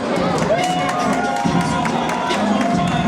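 A crowd at a WXC Evolution grappling event cheers and claps loudly and steadily for the fighter, a continuous roar of mixed voices and shouts with no clear break.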